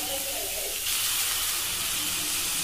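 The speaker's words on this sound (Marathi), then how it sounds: "कांदा व्यवस्थित भाजून झाल्यावर ह्याच्यामध्ये टोमॅटो ॲड करते मी" Tomatoes hitting a pan of fried onions, ginger and garlic for pav bhaji give a steady, loud hissing sizzle that swells after the first second and holds, with a faint murmur underneath.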